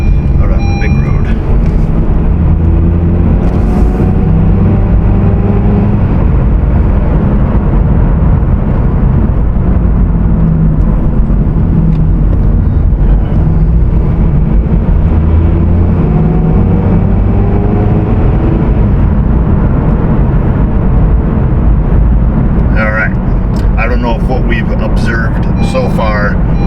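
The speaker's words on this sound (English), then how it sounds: "definitely has some wheel bearings making some noise, you know, some thumping in the brakes" A car rolls along through town with a continuous low road and engine rumble, worn wheel bearings droning and brakes thumping, a steady close drone throughout, with a person talking over it.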